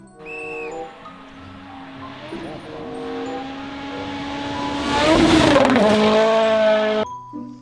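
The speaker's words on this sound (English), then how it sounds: "wow, sports car." A cartoon-style sports car engine revs up, climbing from a low drone to a loud, dense roar that swells and then cuts off near the end.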